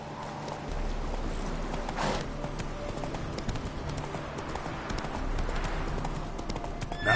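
Horse hooves clip-clopping at a steady trot in a video game, with a continuous rhythmic clatter close by, under a faint rumble of background noise.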